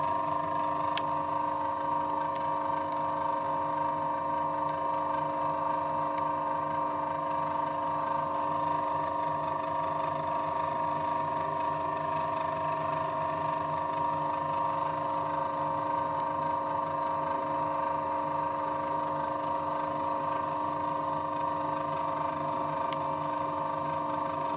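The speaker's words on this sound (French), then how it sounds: "Utilisez la manivelle sur le côté pour abaisser le foret délicatement et effectuer le perçage." A pillar drill runs with a steady mechanical hum made of even tones while its bit is lowered into a workpiece, continuous and fairly quiet, with no talk.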